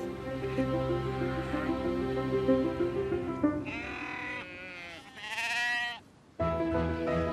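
Native-breed sheep at a farm in Devon and Cornwall bleat repeatedly, several loud, wavering calls from animals close by, overlapping one another with a short pause before the last call.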